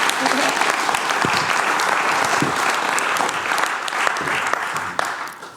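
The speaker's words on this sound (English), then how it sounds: "I'm going to ask you to give her a warm applause" Warm applause from a live audience at an arts presentation event, dense and steady clapping filling the room throughout, loud and close, fading slightly at the very end.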